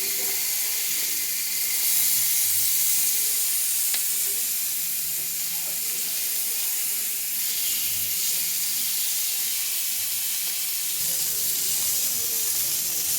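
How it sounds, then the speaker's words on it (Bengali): Fish frying in a small amount of oil in a pan sizzles steadily throughout, a continuous close hiss with occasional faint clinks, no voices. "এরকম কম তেলে মাছ ভাজা"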